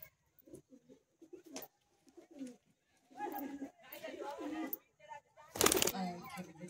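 Pigeons coo softly at a pigeon sale, short low calls close by, mixed with someone talking and a sudden loud rustle near the end.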